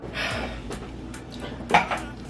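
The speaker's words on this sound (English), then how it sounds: "You're gonna stir this around." A wooden spoon stirs coconut milk in a pot, making soft scraping and a couple of light knocks against the pan, quiet and close.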